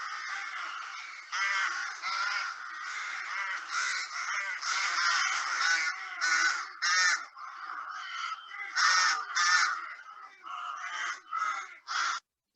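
Rooks call on farmland, a flock giving dense, overlapping harsh caws that come in bursts and carry steadily at close to middle distance, with no talking.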